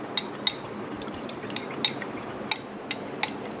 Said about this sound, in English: And now I start whisking it. Whisk it thoroughly. I'm using a fork for whisking.